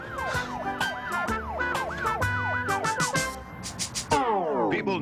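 An ambulance siren wails loud and close, cycling rapidly through rising and falling sweeps, then shifting to a sharper falling tone near the end.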